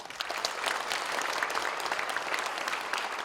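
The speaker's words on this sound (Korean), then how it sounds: "우리 모두 뜨거운 박수와 사랑으로 축하드립니다" A church congregation claps warmly during an ordination thanksgiving service, a dense, even roll of many hands heard from a distance and sustained throughout without talk.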